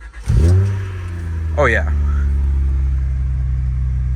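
In-car cold start of a high-mileage car with a newly replaced transmission: the starter cranks, the engine catches with a rev flare, then settles to a steady low idle while someone speaks briefly.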